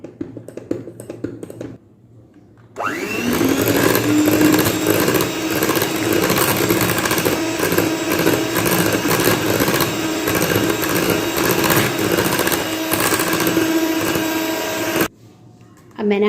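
Electric hand mixer whirring steadily through lamington cake batter in a home kitchen, starting after a brief spoken moment and running continuously and loudly for about twelve seconds before cutting off.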